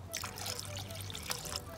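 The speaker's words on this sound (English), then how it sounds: "I'm just going to pour some water on this" Water poured onto a homemade Jamaican black castor oil mixture gives a steady close trickle and splash lasting under two seconds, with a low hum underneath.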